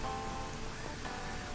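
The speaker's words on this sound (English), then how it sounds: "I want to say, oh, it's raining, but we're going to be underwater." Steady rain patter from the underwater adventure game Dave the Diver, a dense, even hiss of falling drops on a surface that holds constant through the short stretch, with no voices over it.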